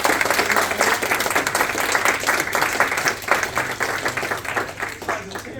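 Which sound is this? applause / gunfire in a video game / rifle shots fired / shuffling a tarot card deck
applause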